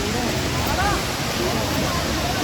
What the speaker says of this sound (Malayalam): ഇതാണ് ആ വാട്ടർഫാൾ.